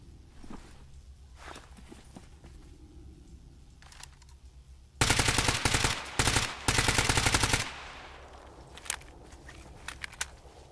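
Rapid automatic gunfire bursts in the shooter game Stalker GAMMA, loud and dense for a few seconds and then cut off, with quieter footsteps and gear handling before and after.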